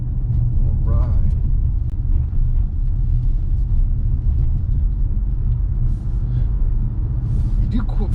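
Low, steady road rumble heard from inside a 2023 Mazda CX-5 2.5 S Select driving on slick roads, a continuous deep drone with faint tyre noise, with a person talking over it.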